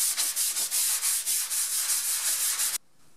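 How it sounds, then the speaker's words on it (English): 220-grit sandpaper rubs back and forth across plywood in quick, even strokes, loud and close, then stops abruptly. "I'm just going to hit it with some 220 sandpaper to clean up the screw holes"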